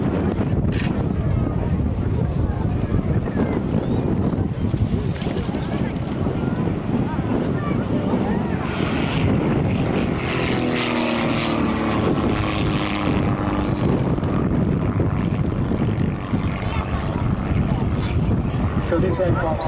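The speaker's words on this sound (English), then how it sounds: "So this aircraft is 57 years old, and this is a very nice display from Justin Needham's." A 57-year-old vintage propeller aircraft performs a display at the RAF Marham airshow, its engine drone steady and loud throughout, mixed with wind buffeting on the microphone and a shifting pitch as it passes.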